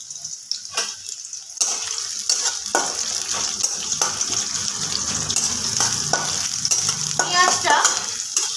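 A dried red chili goes into hot oil for a curry of taro and prawns. After a quiet start, a loud, continuous close-up sizzle suddenly erupts, with scattered pops and crackles throughout.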